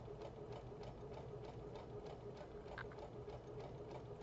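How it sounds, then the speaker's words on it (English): A sewing machine stitching a seam around a scrub cap, a steady rapid mechanical whir with even needle clatter, continuous and fairly faint. "Okay, so I'm just going to stitch all the way around."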